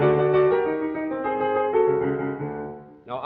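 A rejected sketch for a Beethoven symphony, built on the symphony's opening four notes, rings out as loud, sustained harmonic chords and melody for about three seconds with no talking, ending in an abrupt cut.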